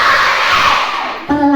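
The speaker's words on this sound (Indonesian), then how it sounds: "Kalau kau anak soleh bilang hore" A group of schoolchildren at an elementary school Maulid Nabi celebration shout hooray together in one loud sustained cry, then a single voice rises sharply at the end.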